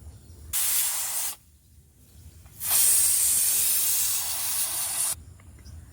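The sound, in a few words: pressure cooker releasing steam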